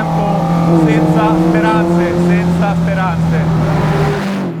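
An Alfa Romeo Giulia GTAm race car laps the Balocco track, its loud engine droning steadily with rapid shifts and revving bursts while someone speaks over it.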